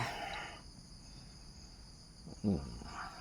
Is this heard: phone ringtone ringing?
no